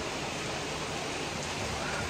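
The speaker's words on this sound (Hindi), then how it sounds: "बारिश देख रही कि बारिश कैसी हो रही है।" Steady rain falls in a dense, even hiss with no breaks, loud and close, as though outside an open door during a downpour, with no voices over it.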